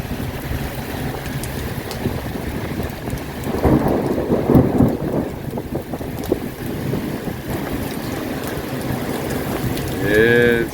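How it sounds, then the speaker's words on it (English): Heavy rain drums on a truck while it is driving, with rumbling thunder and wind noise in a steady, loud wash that swells in the middle. A voice speaks briefly near the end. "it's raining pretty good"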